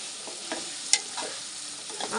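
Amaranth stems and prawn curry stirred in a pan, giving a steady broadband sizzle with a few soft scraping strokes and one sharp clink near the middle, moderately quiet and without voices.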